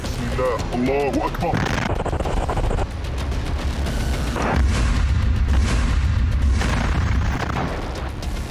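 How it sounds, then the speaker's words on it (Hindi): A GBU-38 bomb blast destroys a Merkava tank east of Jabalia camp, with heavy booms and sustained rumbling explosions that build and swell, mixed with other sounds. "इसी बम से जबालिया कैंप के पूर्व में एक मरकवा टैंक पर हमला करके उसके चीथड़े उड़ा दिए"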